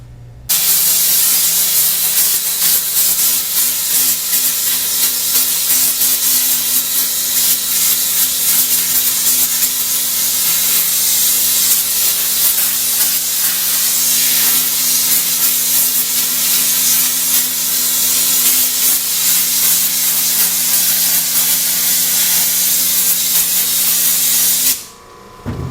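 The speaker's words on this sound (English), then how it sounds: "What would happen if we tried the pressure washer all by itself?" A pressure washer blasts water onto a screen printing mesh to strip off emulsion, with no remover used: a loud, steady, broadband hissing spray runs continuously for about 25 seconds, then cuts off abruptly.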